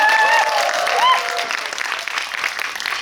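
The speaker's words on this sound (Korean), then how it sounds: "박수 쳐주셔도 돼요." Audience in a cinema hall at a film guest visit event applauding loudly and continuously, a dense wash of clapping with a voice briefly heard over it near the start.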